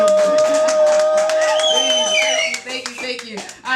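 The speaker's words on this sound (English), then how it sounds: "please give a big round of applause" Audience applause after a guest introduction on a talk show, dense clapping that swells then thins out, with a few voices mixed in.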